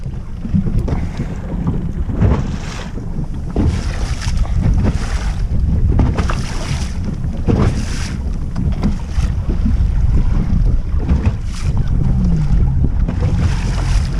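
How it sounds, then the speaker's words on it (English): Sailboat driven through waves in strong wind, with loud wind buffeting the microphone and surges of water washing past the hull at irregular intervals, continuous and close, with no voices. "you can see that the waves are hitting his leeward side, pushing him right up a lane"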